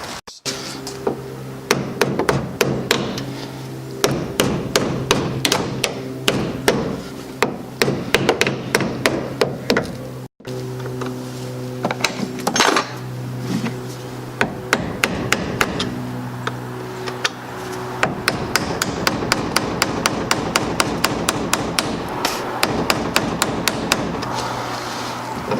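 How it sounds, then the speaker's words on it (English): A small hammer taps repeatedly on a Toyota Corolla battery part to crack it loose, producing steady close metallic knocks in quick bursts with brief pauses throughout. "I'm going to get a small hammer and I'm just going to tap on this to try and get it to crack loose."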